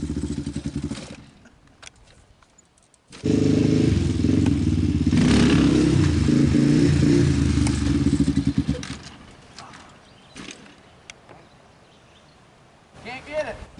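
An ATV engine revs hard during expert wheelies, a loud, rough roar for several seconds between quieter idling stretches, with some clatter and a voice partly over it.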